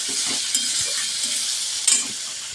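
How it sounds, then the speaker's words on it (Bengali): Tomatoes stirred in a hot pan for a Bengali rohu fish curry, with a steady sizzle of frying oil and repeated scraping strokes of a spoon, close and loud with no talk. "এবার খানিক নাড়তে থাকবো মোটামুটি দশ মিনিট মতো যতক্ষণ টমেটোটা না গলে যাবে"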